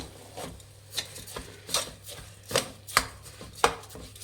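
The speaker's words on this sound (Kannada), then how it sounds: "ಮಿಕ್ಸ್ ಮಾಡಿ ಅಕ್ಕಿನ" Rice is stirred into fried lima beans for avarekalu rice bath. A spoon scrapes across the pan in a steady rhythm of about eight or nine gritty strokes, close and without speech.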